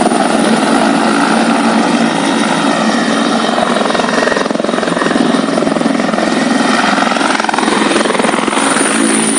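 A landing helicopter's rotor and engine roar loudly and steadily, close by, with a constant thumping drone throughout, in Riau.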